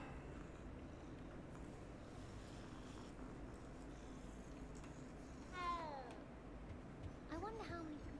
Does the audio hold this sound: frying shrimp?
no